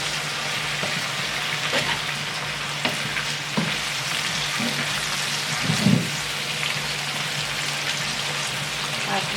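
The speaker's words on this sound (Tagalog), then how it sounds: "Ayan, haluin na natin." Long chili peppers being stirred in a sizzling pan, a steady frying hiss with a few soft scrapes and clinks of the utensil partway through, close and continuous with no talking.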